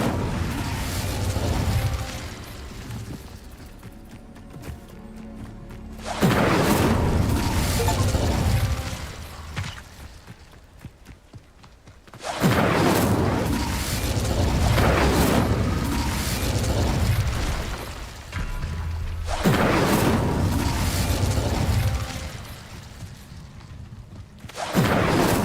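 Incendio fire spells burst repeatedly in Hogwarts Legacy, three loud fiery blasts spaced several seconds apart, each a broad roaring whoosh that fades before the next, with no voices.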